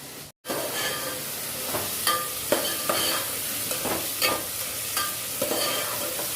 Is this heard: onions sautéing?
yes